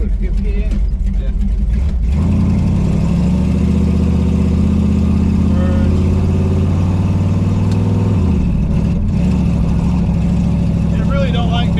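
A rebuilt 1968 Dodge Charger R/T engine drones loud and close while driving, its pitch rising and falling with gear changes, under occasional talk.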